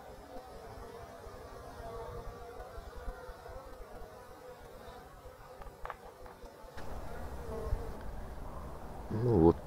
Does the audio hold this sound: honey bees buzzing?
yes